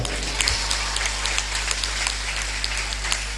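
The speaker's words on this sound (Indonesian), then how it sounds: "Tepuk tangan untuk kalian." Students at an Islamic boarding school, Pondok Pesantren Assalafiyah 2 in Brebes, applaud in a large hall; a steady, moderately distant wash of clapping runs throughout over a low background hum.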